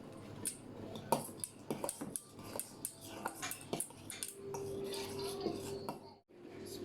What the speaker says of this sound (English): Spread the butter on bread.